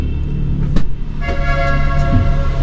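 Vehicles honk as they pass through the Kaybiang Tunnel, short car horn toots echoing over the hum of passing traffic, with one sharp burst early and a longer sustained horn afterward.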